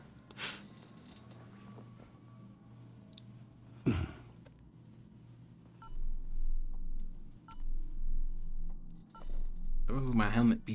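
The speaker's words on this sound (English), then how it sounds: "my helmet beeping." Electronic beeping from Batman's helmet in Batman: The Telltale Series, a few short, bright tones scattered over a low game soundscape with a brief deep thud, ending in a burst of voice.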